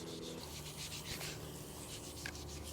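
A gray scuff pad scrubs a primed wheel in quick back-and-forth strokes, a steady close rasping rub that continues for the whole stretch with no voices.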